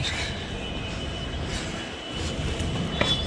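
A train rumbles at a railway platform near Yeshwanthpur, steady broadband noise with faint wheel squeal and a brief metallic click near the end.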